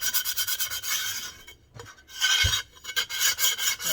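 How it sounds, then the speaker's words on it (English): Wet sanding with small Diamond Core sanding pads, a rhythmic, close rasping rub in quick back-and-forth strokes, pausing briefly midway before the scrubbing resumes. "What I use is these Diamond Core little sanding pads, and you wet them."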